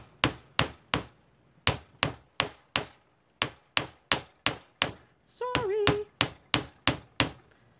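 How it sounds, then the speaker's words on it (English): A hammer beats a piece of copper flat for jewelry making, sharp metallic strikes in quick groups of three or four with short pauses, and a brief squeaky tone cuts in partway through. "Copper's a lot harder, but I'm gonna hammer it anyway because I want it flat."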